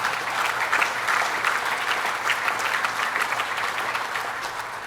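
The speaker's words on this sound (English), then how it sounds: "So let's give him a round of applause." Audience applauding steadily at the 2015 Summer Adirondack Challenge raft event, a dense, even clapping that holds loud through the whole stretch with no pauses.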